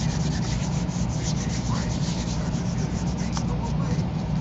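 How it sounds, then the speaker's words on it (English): Close, continuous rubbing of art tissue paper laid over a gel printing plate, a soft, even scratchy swish that carries steadily from start to finish. "Give it a little rub."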